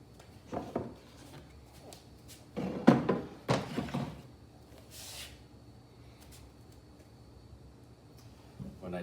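Lined drawers of a walnut tool box slide open and shut with a few soft, muffled thunks and brief scraping, spaced out over several seconds, with quiet room noise between.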